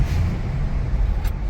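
A Toyota Highlander XLE accelerates under light throttle, its engine giving a steady low rumble with road and tire noise from inside the cabin.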